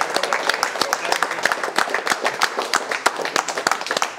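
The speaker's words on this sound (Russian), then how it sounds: "Давайте отдельные аплодисменты чемпиону" Dense applause from a crowd at a compact PC building competition, honouring the champion: rapid overlapping hand claps continue steadily and fairly close for several seconds, with no one speaking over them.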